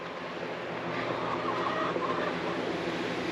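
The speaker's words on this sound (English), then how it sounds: "Chickens are waiting for treats" Backyard chickens clucking and murmuring close by while waiting for treats, a continuous busy chatter of several birds outdoors.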